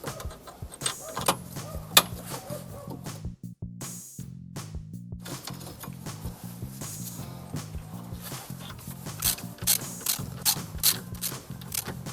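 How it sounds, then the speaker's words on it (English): A suspension bolt being tightened on a Renault Clio 3 during front spring replacement: rhythmic close ratchet clicks in runs, with a brief pause and occasional metallic clinks, moderately loud and without speech. "Slide bolt back and tighten it down."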